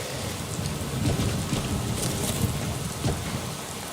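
Steady rain pours down in Skyrim, a dense, even hiss of drops that stays loud and unbroken throughout, with faint low rumbling underneath and no voices.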